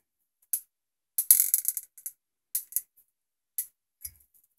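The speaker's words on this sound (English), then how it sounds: "And we loosen the wedge screw." A wedge screw on a PSA Slim KeyMod rifle handguard is loosened, giving a few sharp metallic clicks and ratcheting ticks in short bursts, close by, with quiet gaps between them.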